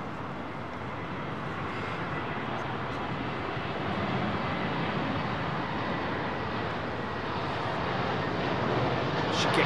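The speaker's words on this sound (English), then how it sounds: "Dreamliner lined up right there is going to Delhi." At London Heathrow Airport a Boeing Dreamliner jet sits lined up for departure, and its engines make a steady broad roar that holds for the whole stretch and swells slightly near the end.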